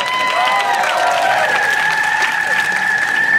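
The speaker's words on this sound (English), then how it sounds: "We're cheering you" Crowd applause and cheering fill the air steadily throughout, with whistles and sustained tonal voices riding over the dense clapping, loud and close, with no pauses.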